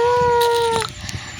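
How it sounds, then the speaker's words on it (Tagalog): A dog howls and whines at home in a high, drawn-out tone for nearly a second, then gives a few softer yips and whimpers, close and fairly loud. "Aso ko ang saba-saba dito sa voice over ko"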